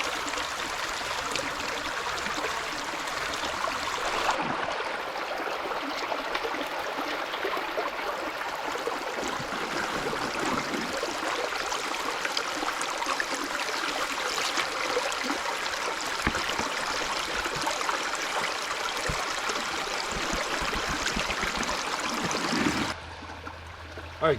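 Water rushing steadily through a gold prospecting sluice box outdoors, a continuous close splashing flow with no talk, cutting off abruptly near the end.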